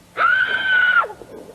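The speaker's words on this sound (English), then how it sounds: "The first thing I heard was a scream." A single high, strained scream rises sharply, holds steady and piercing for about a second, then cuts off. It is heard alone and fairly close beside a canal bank, with no talk.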